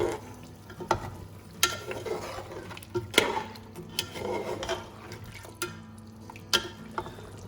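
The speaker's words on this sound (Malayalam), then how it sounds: "അപ്പോൾ നമുക്കിതെല്ലാം കൂടെ നല്ലോണം ഇളക്കി മിക്സ് ചെയ്യാം." A spoon stirs cooked beef into spiced Thalassery meat rice in a pot, giving a string of sharp scraping knocks and soft wet churning over a low background hiss, with no voices.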